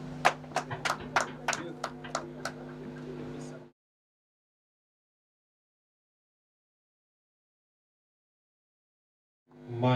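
A short round of clapping from a few hands at a virtual graduation, with about eight distinct claps over a few seconds, then silence before a faint sound returns at the end.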